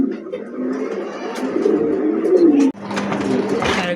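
Pigeon cooing close by in a bird market stall, a series of soft low throaty coos that rise and fall over about three seconds, followed by a brief rustle and more faint calls.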